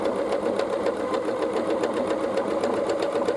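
Sewing machine running a simple straight stitch, a steady fast mechanical whir with rapid even needle ticks, continuous and close.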